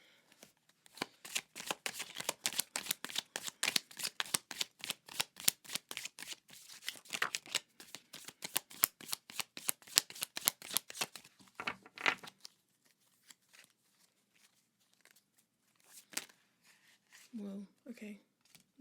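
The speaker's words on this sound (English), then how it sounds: "I'm going to shuffle these cards" Tarot cards riffle and snap rapidly in repeated bursts, close up, followed by softer scattered shuffling and a brief spoken word near the end.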